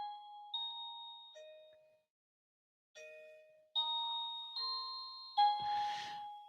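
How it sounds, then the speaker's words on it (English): An electronic doorbell chime plays a sequence of clear ringing tones, pausing briefly midway, then several more tones, the last one sounding buzzier and harsher. "So we have now changed the doorbell, and if Steve is ready, he will press it aga"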